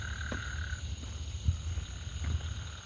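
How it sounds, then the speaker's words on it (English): Frog croaks outdoors, a few short low calls spread across a steady background hum, fairly faint and with no one talking. "Stupid ass loud ass frog."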